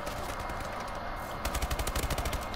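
Rapid automatic gunfire in Call of Duty Advanced Warfare, a loud close burst of evenly spaced shots in quick rhythm after a moment of ambient game noise.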